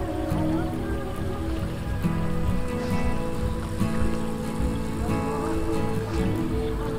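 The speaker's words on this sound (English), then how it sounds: "the sound of the water sucking from the river very strong" A steady, strong rush and churn of a pump drawing water up from a deep river, continuous and loud throughout with a low mechanical hum underneath.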